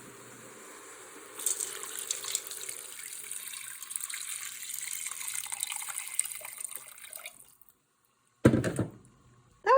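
Water is poured into a pressure cooker holding beans, garlic, pepper and herbs de Provence: a steady gushing stream that runs for several seconds, stops abruptly, then gives way to a brief clatter.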